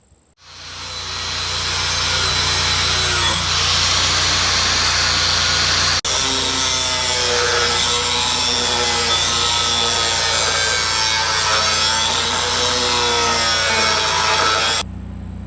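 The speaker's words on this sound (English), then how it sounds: "I've got a grinder and a wire wheel on that one" An angle grinder fitted with a wire wheel scrubs metal parts of a lawnmower in a home shop, spinning up quickly and then holding a loud, harsh, continuous whir and scrape for about fourteen seconds before cutting off.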